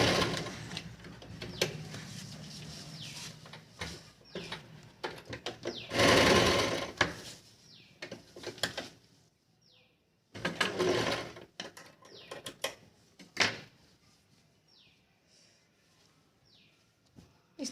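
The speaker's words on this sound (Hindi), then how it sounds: "यहाँ भी हमें 1/2 इंच की मार्जिन देते हुए सिलाई।" A sewing machine stitches salwar fabric for a semi-Patiala salwar along a half-inch seam margin, its needle whirring in several bursts of varying length separated by quiet pauses, close-up with no talk.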